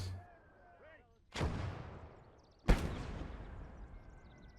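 Mortar battery firing in the Call to Arms: Gates of Hell war game: two heavy booming launches about a second apart, each with a long rumbling decay, after faint ambient battlefield noise.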